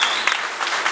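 Church congregation clapping hands together in a brief burst of applause, dense and steady.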